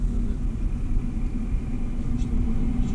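Inside a Haval Jolion working as a taxi in Moscow while it drives, a constant low road and engine rumble with faint tire hiss, steady and moderately loud throughout, with no clear voices over it.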